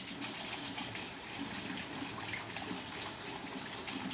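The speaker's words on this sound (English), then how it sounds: "So let's go wash our hands." Steady running tap water splashes continuously as hands are washed beneath it, a dense close hiss of water falling into a sink with no speech.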